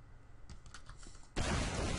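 Fingers tap out a quick burst of keystrokes on a computer keyboard while Team Fortress 2 is being played, a loose cluster of light clicks that is then swamped by a sudden loud, wide wash of noise.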